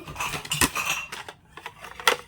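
Ceramic cups and plates, newly bought, clink and knock together as they are handled, giving a few close, bright rattles with short quiet gaps between them.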